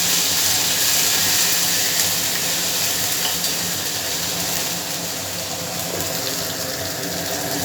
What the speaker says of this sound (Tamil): அதில் கொஞ்சம் வந்து இஞ்சி பூண்டு பேஸ்ட்டு கொஞ்சம் சேர்த்து வதக்கிக்கலாம்